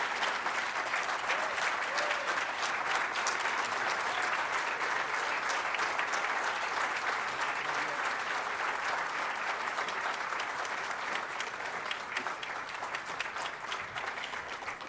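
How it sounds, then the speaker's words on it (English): Sustained, even applause from a large audience at a broadcasting awards ceremony honouring Joe Castiglione as 2024 Massachusetts broadcaster of the year, with dense clapping that continues steadily throughout. "Please join me while he takes his pictures over here with a rousing applause for Joe Castiglione"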